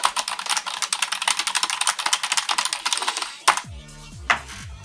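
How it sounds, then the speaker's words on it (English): Rapid, clattering keystrokes on a loud, non-backlit computer keyboard, steady and close, ending with a couple of sharper clicks and a brief electronic tone. "that's how noisy this keyboard is"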